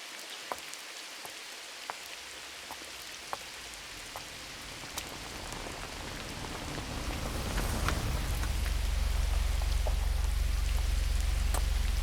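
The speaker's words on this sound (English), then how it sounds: "The rain." Steady rain pouring down, starting lighter and swelling to a loud, dense, continuous wash of drops, with scattered sharper drips standing out over the constant hiss.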